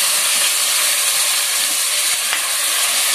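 Potatoes, tomato and carrot frying in a hot pan for a spicy chicken curry, a loud continuous hiss and sizzle with a faint clink partway through.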